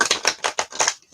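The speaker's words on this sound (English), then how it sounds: "You guys get to see it in real time, me reshuffle." Tarot cards are shuffled in quick, crisp riffling bursts, about six rapid flicks in a second, close and clear with no talking.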